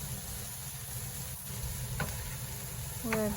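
Large Japanese radish stir-fried in a pan, a soft steady sizzle continuing throughout with a couple of brief scraping stirs toward the end.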